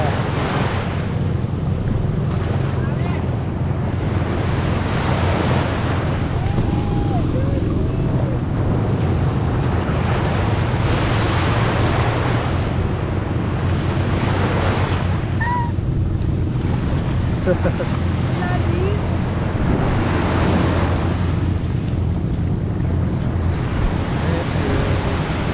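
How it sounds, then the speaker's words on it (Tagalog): Sea waves wash onto a beach in Liwliwa, Zambales, on a hot summer day, a continuous rushing surge with periodic swells, mixed with wind buffeting the microphone and occasional faint voices. "Dagat na."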